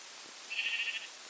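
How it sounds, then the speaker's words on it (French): A sheep in a survival video game lets out a single short, clear bleat over faint background ambience. "le mouton"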